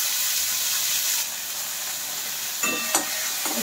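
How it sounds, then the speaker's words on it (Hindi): Chopped tomatoes going into a sizzling tadka in a home Indian kitchen, with a loud, steady hiss of hot oil that eases slightly as it settles, plus a couple of faint clinks near the end. "यहाँ पे मैं डालूंगी टमाटर जिसको मैंने छोटा छोटा करके काट लिया है।"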